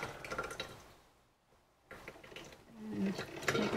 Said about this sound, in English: And making some noises, heating some water.